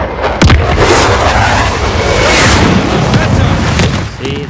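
Airstrike explosions in the video game Call of Duty Modern Warfare hit as a loud boom followed by sustained, heavy rumbling blasts, with radio-style voices faintly underneath.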